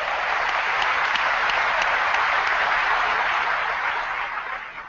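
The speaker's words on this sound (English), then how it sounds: "We should give them an applause." A conference hall crowd at the World Parks Congress breaks into steady, dense applause that holds evenly and begins to fade at the end.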